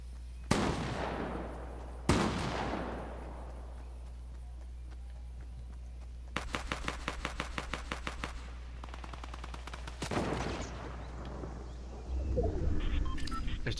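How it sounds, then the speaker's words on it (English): Video game gunfight between two teams: two sharp loud shots early, then fast distant automatic bursts in the middle and another volley later, over a low hum with faint bird-like chirps. "We got shots over here."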